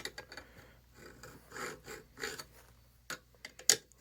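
A Nu-Trix thread repair file is drawn back and forth over a bolt's damaged threads, making quiet, close rasping strokes in an irregular rhythm. A few sharper metallic clicks sound near the end.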